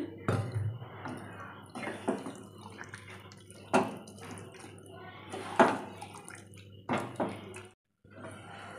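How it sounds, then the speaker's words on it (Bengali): Warm water being poured into moong dal cooked with a fish head, a few short splashing pours and drips separated by pauses, close and fairly quiet. "আর একটু গরম জল দিয়ে দেবো, উষ্ণ গরম জল।"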